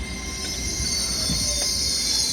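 An LNER Azuma train pulls out of Doncaster station toward London, a steady rolling rumble with a high electric whine and faint wheel squeal, constant and moderately loud.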